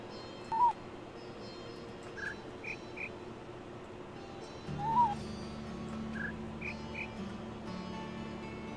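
Sharp, high-pitched bird-like shrieks from the video game The Witness, a few brief cries scattered over steady ambient hum, with a low drone joining partway through.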